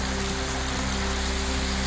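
Heavy rain with strong wind falls during a monsoon downpour in Maharashtra, a steady dense hiss of drops hitting surfaces that stays constant and loud throughout, with no voices.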